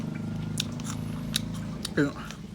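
Big bites of sour fruit chewed close to the mic, a few crisp crunchy bites over a low steady hum, ending in a short voiced exclamation.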